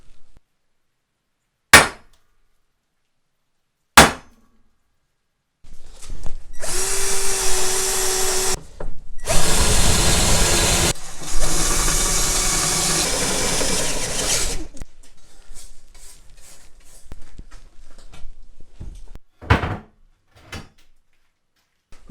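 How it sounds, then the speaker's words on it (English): A power drill with a quarter-inch then half-inch bit bores holes in steel for a no-weld blacksmith forge, loud whining in long sustained runs with pauses, framed by sharp clanks and knocks of metal and tools. "What I did is I used a 1/4 inch bit to start the hole and then finished it off with a 1/2 inch bit."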